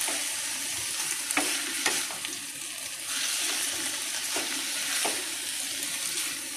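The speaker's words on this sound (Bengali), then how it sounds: "এটাকে একটু হালকা করে নেড়ে নেব।" Chilli chicken, marinated overnight in vinegar, soy sauce, garlic, ginger and chilli paste, is stirred in a pan over a steady sizzle, with a few soft scrapes of the spatula among the frying noise.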